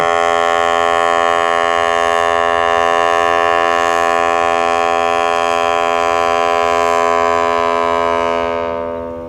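A loud, deep ferry horn blasts continuously for about nine seconds at Ulee Lheue port before departure to Sabang, steady and droning, then begins to fade at the end.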